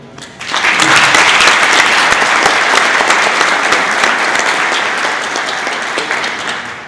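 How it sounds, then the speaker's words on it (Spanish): An audience at a conference breaks into loud, sustained applause that swells quickly after a brief lead-in and continues steadily, with dense overlapping claps slowly easing near the end. "Yo pediría un aplauso para Paulo Carmona."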